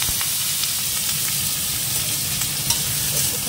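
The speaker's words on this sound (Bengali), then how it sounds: "একটুখানি আলুটা আগে নেড়ে নেবে" Potato pieces frying in oil with nigella seeds while being stirred, giving a dense, even sizzle with faint scraping, loud and close throughout, and no voices.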